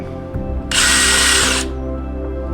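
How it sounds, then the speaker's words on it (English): A power drill bores into wood, a short loud high whir lasting about a second after a brief motor start, then winding down into quieter background. "and sink the drill bit."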